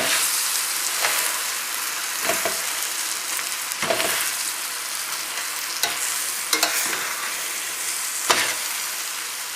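Turkey medallions and vegetables sauté in a pan under a continuous close, bright sizzle, with occasional soft scrapes and taps as a utensil stirs them around.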